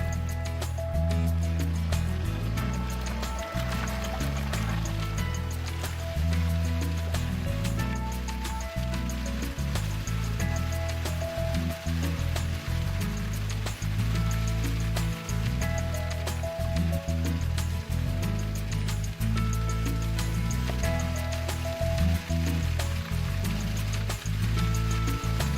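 Stream water diverted into artificial waterfalls at gold diggings pours without a break, a loud, dense, even rush with no voices.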